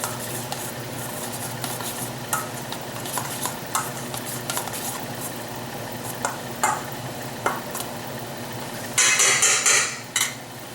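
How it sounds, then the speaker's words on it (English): Cheese being stirred into gluten-free bun dough in a bowl, with repeated scraping and knocking strokes at an irregular rhythm and a louder clattering burst near the end, heard up close with no talking. "Give it a little stir."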